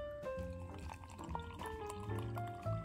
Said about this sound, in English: and put some water on it